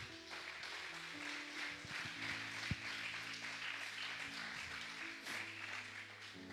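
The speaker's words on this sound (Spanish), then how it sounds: "Denle un aplauso bien fuerte a Jesús." A church congregation claps together at a soft level, the steady applause mixed with sustained musical tones beneath it.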